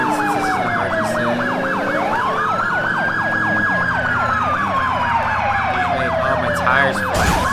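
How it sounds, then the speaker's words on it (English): Loud, close sirens of an FBI emergency unit in the video game GTA IV with the LCPDFR mod: a rapid warbling yelp layered over a slower wail that rises and falls, with engine rumble underneath and a short burst near the end. "I'm going to go through double sirens since this is an emergency"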